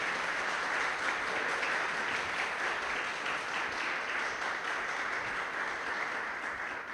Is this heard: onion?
no